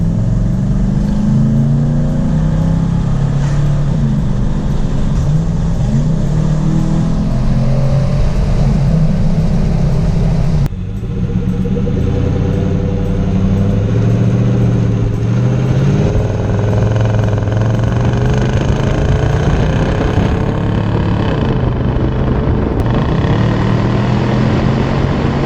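A 2017 Nissan Titan pickup's engine idles loudly up close, then is revved repeatedly, the tone swelling and falling across several throttle pulls over about twenty-five seconds, with no voices.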